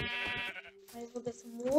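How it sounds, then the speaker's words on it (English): Sheep bleats from the Minecraft video game, a clear wavering cry at the start followed by another rising bleat near the end, with game sounds between. "looks like there's a sheep though"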